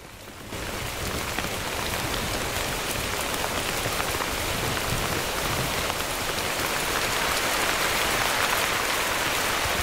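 Steady, dense rain pattering on a surface in Madagascar, starting after a brief quiet moment and continuing evenly throughout with no voices.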